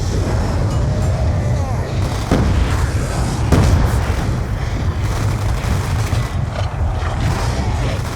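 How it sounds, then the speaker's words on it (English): Grenades go off in a video game, a few muffled booms rising out of a constant roar of loud battle noise. "he gets grenades thrown at him by his own teammate"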